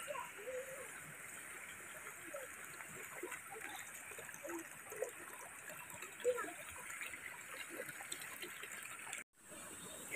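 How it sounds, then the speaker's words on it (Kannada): Water flows steadily through a narrow channel in a paddy field, a faint, continuous gurgling trickle with small splashes, heard close and alone until a short drop-out near the end. "ಇಲ್ಲಿ ನೀರು ಹೋಗುವ ಸೌಂಡ್ ಕೇಳಿಸ್ತಾ ಉಂಟ ನೋಡಿ."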